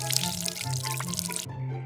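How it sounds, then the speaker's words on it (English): Water poured from a container into three cups for a kids' rainbow science experiment, a steady splashing pour that stops abruptly near the end, with a low background hum. "Pour water into the 3 cups."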